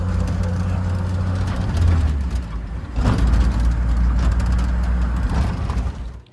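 A 1950 Chevy engine idling steadily close by, a continuous low rumble with a brief surge near the middle, running smoothly before cutting off at the end.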